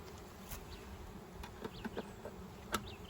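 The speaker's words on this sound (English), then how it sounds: "I got one bee trying to attack me now." A honeybee buzzes close by at a beehive nuc being installed, a droning hum with a few sharper bursts as it moves around, alone with no talk.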